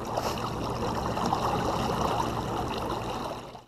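A 55 lb trolling motor on a 1436 jon boat runs at full speed, churning the water in a steady broadband wash with gurgling, close up and with no talk.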